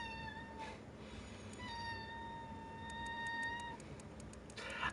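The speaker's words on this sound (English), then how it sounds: "What do you want, cat?" A cat meows close by several times, drawn-out tonal cries with a higher call near the end, over steady background noise from a Mortal Kombat X game session.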